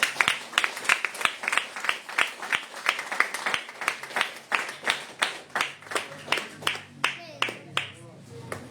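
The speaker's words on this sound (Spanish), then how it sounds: "Den un aplauso a Jesucristo." A church congregation claps in a strong, regular rhythm, with loud sharp beats repeating for several seconds and a voice faintly audible near the end.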